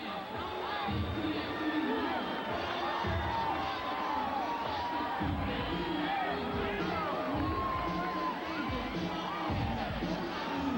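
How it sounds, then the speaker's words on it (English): Boxing arena crowd at a Holyfield versus Moorer fight, a sustained roar of cheers and boos with whoops and babble under a commentator's voice. "Hearing some cheers and boos, it's kind of mixed as he makes his way towards the ring."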